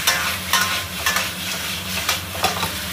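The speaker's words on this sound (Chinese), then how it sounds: "下入这个猪蹄，给它翻炒一下，裹上这个糖色，稍微炒一会儿" Pork trotters stir-fried in a wok of caramelised sugar sizzle steadily, with a few sharper scraping and stirring strokes of the spatula breaking through at an uneven rhythm. The sound is close, and no one speaks.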